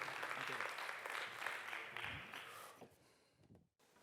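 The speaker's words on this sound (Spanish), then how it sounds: "Por favor, un fuerte aplauso para el doctor Samuel." An audience at a spine surgery lecture applauding a speaker, a dense wash of clapping for about three seconds that thins out and stops abruptly.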